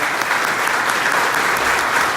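A roomful of Arkansas pharmacy association members breaks into loud, continuous applause, a dense wash of many hands clapping without pause.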